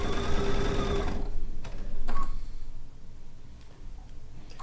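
A sewing machine stitches quilt log strips in a sewing studio, running in a steady fast burr that stops after about a second, followed by a few faint ticks and quieter mechanical handling.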